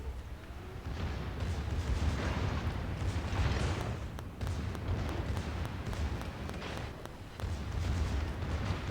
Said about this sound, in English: Enemy destroyer blown up.